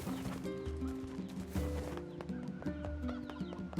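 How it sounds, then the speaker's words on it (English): Chickens cluck in the game NieR Replicant, short clucks scattered over a steady musical score, with hoof-like clip-clop beats in the background. "Hello, chickens."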